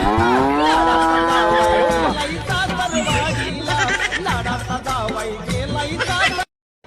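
A buffalo moos loudly in a long, drawn-out call lasting about two seconds, followed by busy background noise and music-like clatter.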